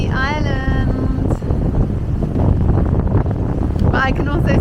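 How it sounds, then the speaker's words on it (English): Strong wind buffets the microphone on an open ferry deck at sea, a loud continuous roar, with a person talking over it. "It's so funny walking around deck because it does get so ridiculously windy."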